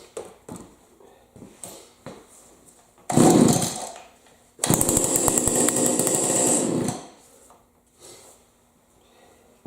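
An old Stihl FS76 weedeater engine sputters: a few faint pulls and knocks, then a short burst of firing, a pause, and a louder two-second run that dies back to quiet handling sounds.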